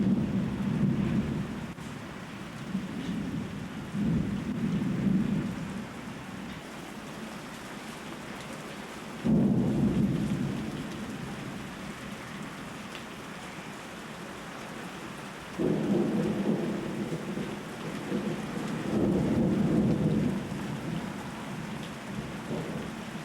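Rain falls steadily through a thunderstorm while rolls of thunder rumble in long repeated swells, some close and loud, others fading back into the constant downpour; no one speaks.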